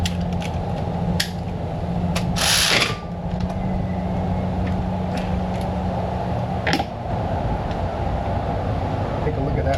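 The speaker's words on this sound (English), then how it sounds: "Get my hand ratchet for this lever." A hand ratchet clicks in a few quick, sharp bursts against a steady loud hum in a vehicle repair shop, with a person talking nearby.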